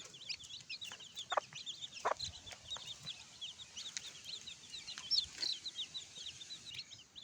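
Many native chickens cluck and chatter continuously at moderate distance, with scattered sharper calls over a quiet outdoor background.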